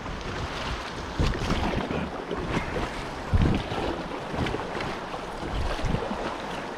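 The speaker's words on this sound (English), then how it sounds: "the next thing we do is go through all this kind of choppy water, which finally has flow" Raft riding through choppy river water in a gorge at low flow, with a continuous rushing, splashing wash punctuated by louder slaps and surges, close and fairly loud, with no talk.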